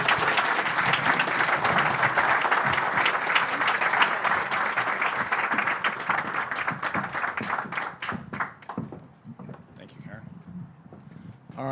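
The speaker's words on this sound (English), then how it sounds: "help me give a warm round of applause to the panelists here." Audience at a crypto town hall in Boston applauding panelists: dense, loud sustained clapping that thins into scattered claps and fades near the end.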